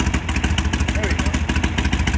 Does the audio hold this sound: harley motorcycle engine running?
yes